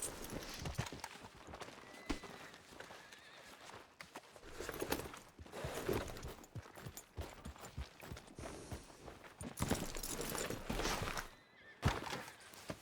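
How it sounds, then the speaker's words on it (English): Horse hooves clip-clop in the video game Red Dead Redemption 2, a string of quick irregular thuds at moderate distance over a busy background, with a neigh-like sound mixed in and no talking. "Go get yourself a horse, then."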